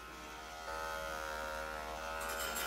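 5-in-1 electric dog clippers fitted with a 9 blade run with a steady close buzz and mains-like hum, rising slightly in level partway through as they start working on a Schnauzer's coat.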